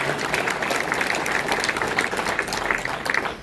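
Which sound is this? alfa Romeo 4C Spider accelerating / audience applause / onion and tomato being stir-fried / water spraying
audience applause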